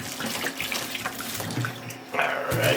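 Water pours steadily into dry pepper seed starting mix, a continuous close splashing trickle with a brief lull near the middle before the flow picks up again, louder toward the end.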